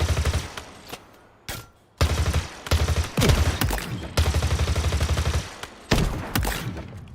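Fully automatic rifle gunfire in the video game Halo Infinite multiplayer, rapid loud bursts of shots in quick rhythmic strings separated by short pauses, close and punchy with no talking.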